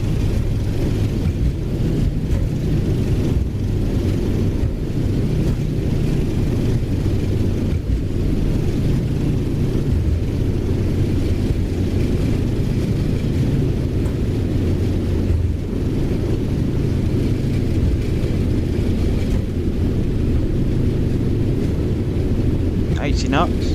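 Boeing 737-800NG thrust reversers and spoilers roaring on a snowy landing rollout, a loud, steady, low rumbling rush that fills the cabin without a break for the whole stretch.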